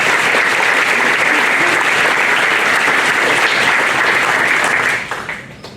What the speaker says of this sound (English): So let's give all of them a round of applause together.